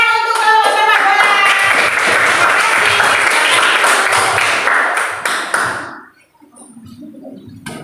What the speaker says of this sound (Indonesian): Tepuk tangan untuk kelompok sepak bola.